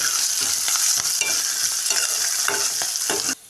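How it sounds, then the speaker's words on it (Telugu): Fenugreek seeds frying in hot oil as a tempering for a bottle gourd dal curry, giving a steady, close sizzle with faint stirring scrapes throughout, cutting off abruptly near the end. "మెంతి వేస్తున్నా చూడండి మెంతి వేస్తేనైతే కర్రీ చాలా టేస్టీగా ఉంటుంది"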